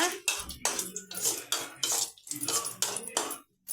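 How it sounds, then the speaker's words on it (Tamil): Cashew nuts sautéed in a pan, with loud, close metallic scraping and clattering of a utensil against the pan in repeated bursts, separated by short pauses. "முந்திரி போட்டு வதக்கிக்கோங்க. நல்லா வதக்கிக்கோங்க."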